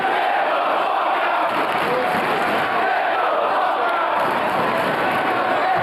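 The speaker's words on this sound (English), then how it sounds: "The crowd's really getting on him now" A wrestling arena crowd at a Ring of Honor match roars and jeers at a wrestler in a continuous, dense, loud wash of voices with no break.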